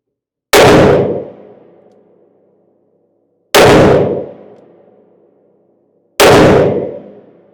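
Three loud, close gunshots from a Taurus Tracker .44 Magnum revolver with a 2.5-inch barrel firing 240-grain jacketed hollow points, each a sharp crack with a ringing decay, spaced a few seconds apart.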